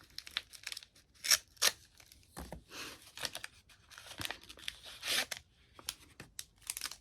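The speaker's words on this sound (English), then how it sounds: "I'll use my little envelope opener." Small envelope opener slicing and tearing open a Plum Deluxe tea package, close quiet bursts of ripping paper and crinkling wrapping in an irregular rhythm, with brief pauses between pulls.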